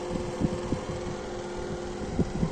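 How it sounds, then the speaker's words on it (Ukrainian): A fan runs with a steady whirring hum inside a homemade apple dryer and meat smokehouse, and a few close knocks and clunks sound over it. "Там ми включили вентилятор."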